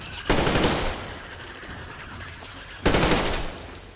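Two bursts of rapid gunfire aimed at a spider in Metro Exodus, each lasting about a second and fading out, with quiet between them.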